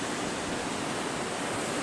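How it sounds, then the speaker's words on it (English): Strong wind roars steadily through trees in stormy weather, a dense, continuous rushing sound with no breaks and no one talking. "So the wind is picked back up again."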